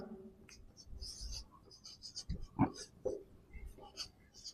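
Marker or chalk writing equations on a board during a Hindi maths lesson on pairs of linear equations, with scratchy strokes and taps under a teacher's intermittent speech.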